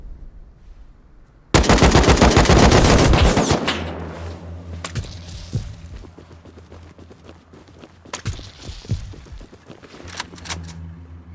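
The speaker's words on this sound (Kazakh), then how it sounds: "Қай жерден атып жатыр?" Sustained burst of rapid automatic gunfire, loud and close, rattling for about two seconds before giving way to scattered, more distant single shots and pops over a rumbling background.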